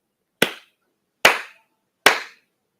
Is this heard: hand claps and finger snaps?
yes